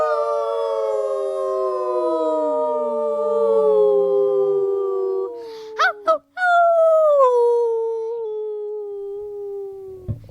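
A family of voices imitates wolves in a group howl, several long overlapping sustained tones gliding slowly downward, broken by a brief pause and a few short calls before the howling resumes and fades.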